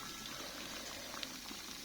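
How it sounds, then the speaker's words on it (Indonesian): Water comes to a rolling boil on an electric stove for making coffee, a steady, faint bubbling hiss throughout with no voices. "Ini udah mendidih."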